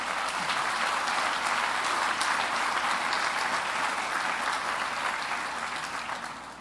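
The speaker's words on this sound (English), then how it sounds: "I want to give both institutions a round of applause" An audience at a research center groundbreaking gives a sustained round of applause for two partner institutions, a dense, even clapping that carries on for over six seconds and tapers off toward the end.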